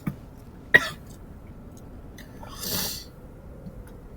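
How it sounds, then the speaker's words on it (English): A person coughs while playing a game, giving a sharp cough near the start and a longer throaty cough and clearing about two seconds later, close and fairly quiet against a low background. "Apologies for coughing."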